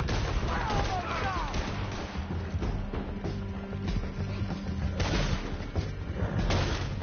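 Gunfire rings out in Red Dead Redemption 2 during a mounted canyon chase, with repeated shots and booms crackling over galloping and game noise throughout.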